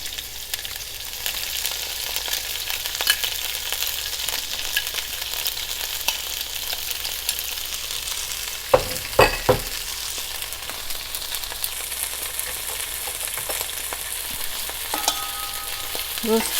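Bean sprouts stir-fry in a hot pan, a steady loud sizzle lasting over fifteen seconds, broken by a few scraping clanks of the utensil against the pan near the middle and end, with no talking.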